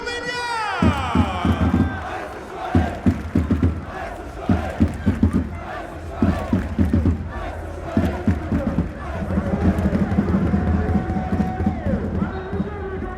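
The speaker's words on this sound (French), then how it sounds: "j'aimerais un tonnerre d'applaudissements, mesdames, messieurs, pour les jaunes et bleus, le FC Sochaux Montbéliard" Stadium crowd cheering for the FC Sochaux-Montbéliard football club at Stade Bonal, loud surging roars and shouts in bursts, with a voice and musical tones mixed in over the cheering.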